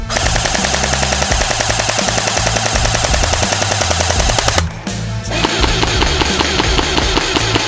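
A Barra 400e electric full-auto BB gun fires long, rapid, loud bursts at a silhouette target twenty yards away. The rattling stream of shots breaks briefly before another sustained burst, with no talking.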